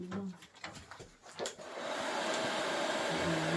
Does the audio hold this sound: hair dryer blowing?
yes